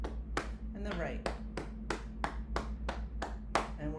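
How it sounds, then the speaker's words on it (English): Hands clap at a brisk, steady pace during an exercise routine, about a dozen sharp claps in a row heard alone over a faint low hum. "Clap your hands to stimulate your heart."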